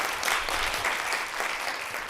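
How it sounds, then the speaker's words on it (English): Audience applause at the end of a conference talk on reinforcement learning for code generation, sustained clapping from a roomful of listeners at an even, moderately loud level. "let's give Suryansh a big hand"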